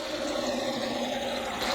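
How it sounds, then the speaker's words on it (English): Cold drinking tap water pours steadily into an Aurora Aqua Optima water container, a continuous close splashing trickle at even level throughout. "I'm going to fill up to the max mark, which is here, with tap water, cold drinking tap water"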